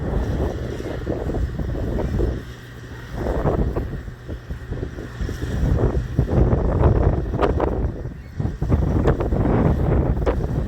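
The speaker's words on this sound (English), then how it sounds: "I can feel the wind blowing." Wind buffeting a microphone on the Cleveland lakefront waterfront, a steady loud rumbling roar with gusty swells and a faint mechanical hum beneath.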